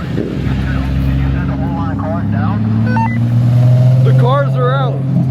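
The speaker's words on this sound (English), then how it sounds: "Bikes coming in." Motorcycles roll into a packed Friday car show, a steady engine drone with low rumbling harmonics filling the whole stretch, loud and close, while people talk over it and shout nearby.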